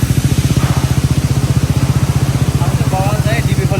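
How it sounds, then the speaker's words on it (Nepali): A KTM motorcycle idles close by with a rapid, even thumping pulse that holds steady throughout, while a voice speaks briefly over it near the end. "अब यहाँ बिस्तारै हामी है बाइकको साउन्ड"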